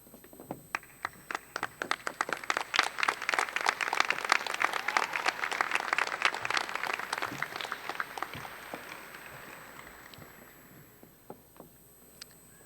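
The standing class of 2022 at a Gilbert High School graduation applauds, with scattered claps that build into full crowd clapping, then gradually thin and fade toward the end.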